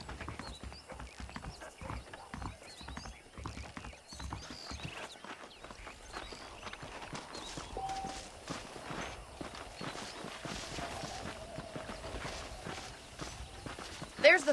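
Steady clip-clop of horse hooves at a walking pace in the video game Red Dead Redemption, with ambient game sounds and occasional voices underneath.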